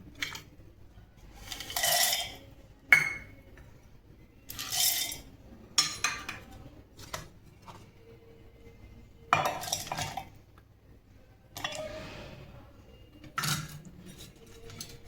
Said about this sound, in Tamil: நம்ம இது வந்து மிக்ஸி ஜாருக்கு மாற்றிடலாம்.